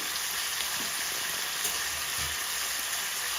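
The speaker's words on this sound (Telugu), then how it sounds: "ఇప్పుడు మునక్కాయలు కొంచెం ఫ్రై అవుతున్నాయి" Moringa drumstick pods fry in hot oil in a pan for raw mango sambar, giving a steady, close, continuous sizzle with no pauses.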